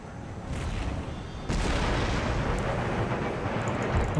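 Howitzer artillery firing in a Napoleonic-era Empire Total War battle, heard as a loud sustained rumble of booming cannon blasts with a sharp jump in intensity partway through, continuing as dense battlefield roar.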